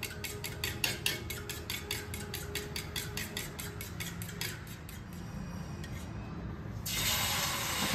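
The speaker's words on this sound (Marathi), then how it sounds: "आणि दूध घालून अजून 1-2 मिनिटं छान फेटून घ्यायचं हे अंड।" Eggs whisked with milk for an omelette, a fork or whisk tapping steadily and rapidly against a bowl, close and even, ending with a louder hiss near the finish.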